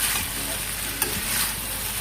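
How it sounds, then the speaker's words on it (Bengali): Dry fish sizzles steadily in a pan for a potato curry, a close continuous frying hiss broken by a single quick scrape as a spoon stirs it. "তো এখন আমি আমার শুকনো মাছগুলো অ্যাড করব"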